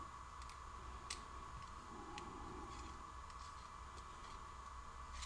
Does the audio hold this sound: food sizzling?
no